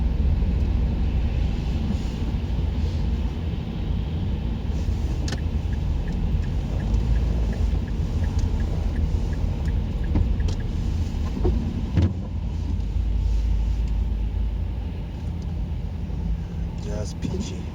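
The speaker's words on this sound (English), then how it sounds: "So there's a lot of traffic this morning." Morning road traffic heard from inside a car: a steady low engine and road rumble with passing vehicle swells and occasional clicks and knocks, continuous throughout.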